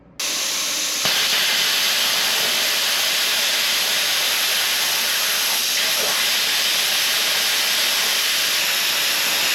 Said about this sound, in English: Plasma cutting made simple here on the MP200 Pro